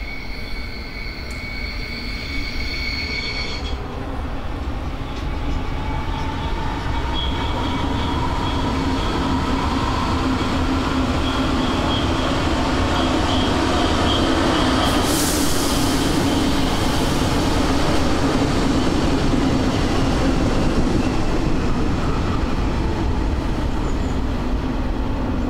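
A Berlin S-Bahn class 485 electric train of East German build runs steadily past, with a continuous broadband rumble of wheels on rails, a brief higher hiss midway, and no voices.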